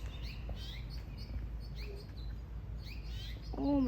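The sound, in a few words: mother bird chirping near her babies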